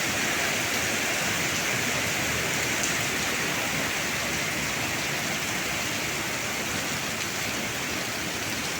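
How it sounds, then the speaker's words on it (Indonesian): Heavy rain pours down steadily during flooding, a dense, loud, unbroken hiss of water striking surfaces nearby with no voices over it. "Hujan masih terus ya."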